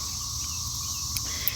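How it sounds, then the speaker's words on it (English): Loud cicadas in a garden beside fields and forest give a steady, shrill, high buzz that runs unbroken through the whole moment, with no voices. "The spring is being interrupted by all of the very loud cicadas."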